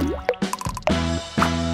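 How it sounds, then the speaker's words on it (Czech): Food colouring dripped into a gelatin and water mixture in a bowl, a few distinct wet plops and drips with squishy liquid sounds, close and fairly clear, in short bursts. "A jestliže tam přidám barvivo."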